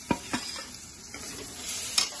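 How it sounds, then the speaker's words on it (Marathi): Tomato is stirred into masala frying in oil for bheja fry, giving a soft continuous sizzle punctuated by several scraping strokes of a spoon against the pan. "आता आपण ह्याच्यात टमाटा घालूया।"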